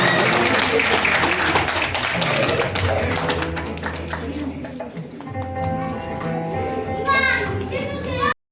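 Loud, steady clapping from a drama festival audience, mixed with children's voices and shouting, holds for about eight seconds and then stops abruptly.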